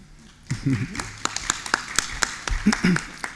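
Scattered clapping from an audience at a food and nutrition floor session, a few sharp claps over about three seconds with speech-like murmur underneath, fairly close but not a full ovation.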